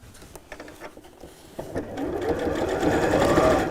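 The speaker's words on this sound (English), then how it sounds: "we're just going to sew along this side" A sewing machine stitches along the side of a seam. After some light handling noises it whirs into a steady, close run that grows louder and stays continuous to the end.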